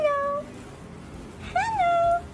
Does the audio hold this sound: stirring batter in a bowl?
no